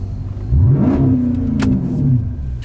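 A car engine revs close by in a quick rising and falling burst that swells to full loudness, then settles into a rumbling idle with a second smaller surge near the end.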